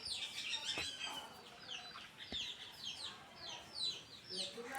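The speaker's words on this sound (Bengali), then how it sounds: "এই যে দেখুন বাইরে মুরগি ঘুরে বেড়াচ্ছে" Chickens wander and cluck outdoors near a home, with repeated short clucks and chirps at moderate distance, fairly quiet, alongside a couple of sharp knocks.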